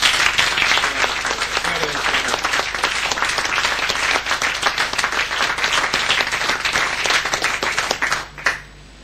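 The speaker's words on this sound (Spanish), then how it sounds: "un aplauso para ellos" Dense applause from a crowd at a political gathering continues steadily for several seconds, with many overlapping claps, before it suddenly stops.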